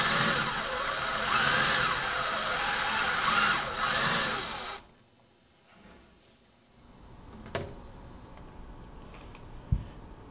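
A power drill bores a hole, a loud high-pitched whine for about five seconds that stops abruptly, followed by quiet handling with a couple of sharp clicks and knocks.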